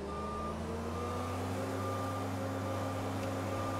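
A commandeered vehicle in a video game emits steady, evenly spaced reversing beeps over a constant low engine hum, continuous and moderately loud throughout.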